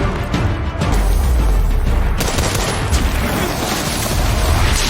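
Loud bursts of rapid gunfire crackle amid booming blasts, dense and chaotic throughout, with no speech heard.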